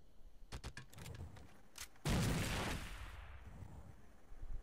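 Rapid gunfire from Rainbow Six Vegas 2 co-op play bursts out in quick shots, then gives way to a loud boom that fades into a lingering rumble.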